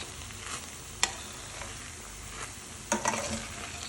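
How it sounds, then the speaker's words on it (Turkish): Butter cooks into rice pilaf in a pot, a soft steady sizzle with a few clinks and scraping stirs of a spoon against the pot. "Tereyağını da biraz pişiriyoruz ve altını kapatıyoruz"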